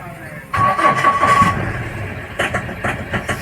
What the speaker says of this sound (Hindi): साउंड कितना कट कट कट कट कर रहा है